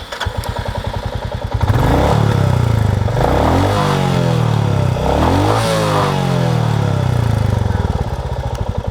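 A new Royal Enfield Classic 350 single-cylinder motorcycle engine runs loud and close, idling steadily, then revving up twice in smooth rising and falling sweeps before settling back, with no talking.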